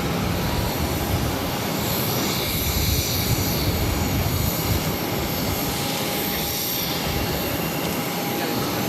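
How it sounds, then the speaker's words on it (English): An Aer Lingus Airbus A330 touches down on the left runway at Boston Logan, its engines a continuous broadband roar at steady loudness with no clear voices. "We got the Aer Lingus A330 touching down to left."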